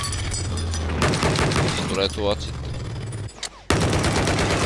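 Battlefield 4 multiplayer on the Golmud Railway map in Conquest Large mode, with dense, continuous rapid gunfire and explosions that drop out briefly and then return, while a player talks over the action.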